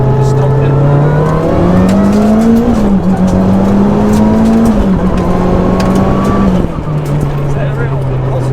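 Loud, close Mitsubishi Evo 5 engine revving and rising in pitch through repeated upshifts, with brief dips at each gear change and overrun chatter, while a voice talks over it.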